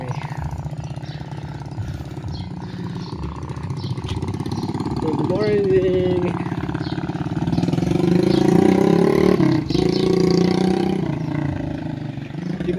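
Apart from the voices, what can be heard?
motorcycle engine revving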